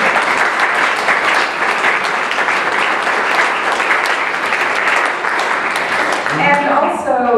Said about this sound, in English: Paul, I hope you'll let me initiate an applause